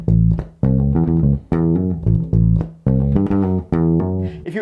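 Two bars of a bass guitar riff with slides, played solo and close, with a run of firm plucked notes and smooth gliding pitch shifts between them.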